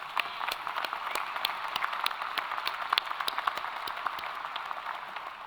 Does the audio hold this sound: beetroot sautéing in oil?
no